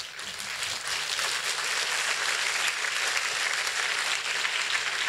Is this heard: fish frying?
no